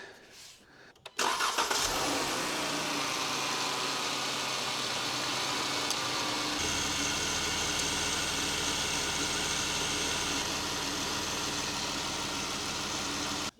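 A car engine, running with several of its sensors unplugged, cranks briefly and catches after about a second, then settles into a loud, steady running drone close by for the rest of the clip.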